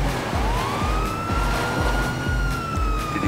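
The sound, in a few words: police siren from the video game GTA V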